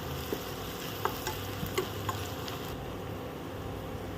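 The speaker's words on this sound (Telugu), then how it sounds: "దీంట్లో అల్లం వెల్లుల్లి పేస్ట్ కూడా వేసుకొని ఒకసారి కలుపుకోవాలి" Ginger garlic paste stirred into a frying egg curry in a pan, low steady sizzle with several light spoon clicks against the pan, close and quiet.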